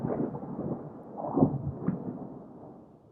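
Thunder rolls through tropical weather in Medellín, Colombia, a low rumble that swells to a louder crack in the middle and then fades away, heard alone at some distance.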